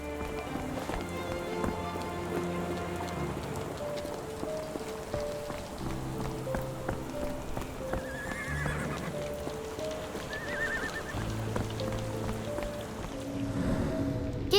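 Rain falls on a Victorian street in the Sherlock Holmes The Awakened video game, a soft steady hiss mixed with clip-clopping horse hooves, an occasional whinny and low tonal background sound, all fairly quiet.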